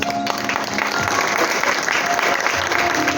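A congregation applauds during a church sermon: dense, steady clapping that fills the whole stretch at an even, fairly loud level.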